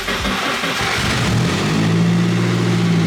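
A restomod Nissan S13 engine cranks briefly, catches and fires up, then settles into a loud, steady rev close to the listener with no talk.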